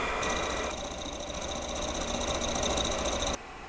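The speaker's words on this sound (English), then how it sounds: "you can measure the speed of this motor" Small electric motor from a simple school kit, running with a steady, continuous buzzing whir at close range and an even level throughout, then stopping abruptly near the end.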